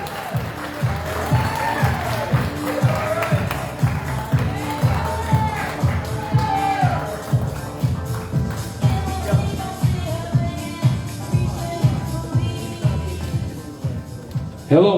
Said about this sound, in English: Let's give her a nice round of applause